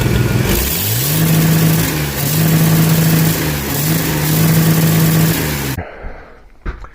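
A custom Ford engine with an MSD 6AL ignition is held against its rev limiter. It roars loudly and close in repeated surges, bouncing off the cutoff in rhythmic waves before it suddenly drops away to near silence.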